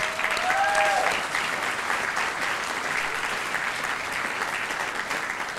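At the dedication of the Lang Chabad Center, an audience bursts into sustained applause, many hands clapping in a thick continuous wash that holds steady, with a brief whistle-like tone near the start.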